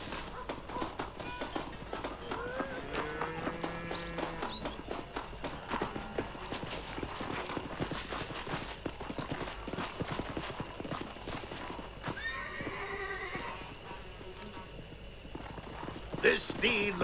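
Steady clip-clop of horse hooves plods along throughout in Red Dead Redemption, with a horse whinnying and a voice speaking over the hoofbeats.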